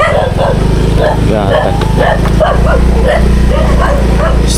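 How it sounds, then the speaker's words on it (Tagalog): Several dogs bark and yip in quick, irregular bursts over a steady low engine drone, with a voice speaking briefly. "Ang daming aso dito"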